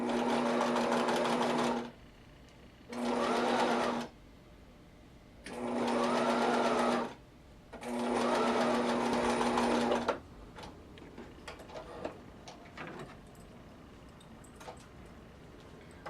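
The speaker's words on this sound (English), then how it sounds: "If you're sewing with a sewing machine, being that this stitch doesn't require any stretch along here, you can sew with a straight stitch." A sewing machine runs a straight stitch through knit fabric for a headband in four steady bursts of rapid, even needle chatter separated by short pauses, then falls quiet apart from faint handling sounds.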